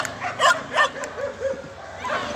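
Young dog at a weekly street dog market, a few sharp yips and whimpering barks close by amid market noise and faint chatter.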